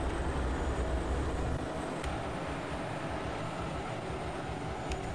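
Spaceship thrusters at full throttle in Evochron Mercenary give a steady, low roaring drone that is slightly heavier at first, then settles into an even, moderately quiet rumble with no talk.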